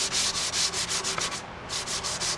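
Power sander working over a wooden cutting board during refinishing, a loud continuous abrasive whir pulsing in quick regular strokes as the pad sweeps back and forth, with one brief dip in the middle.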